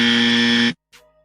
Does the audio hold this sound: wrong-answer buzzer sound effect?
yes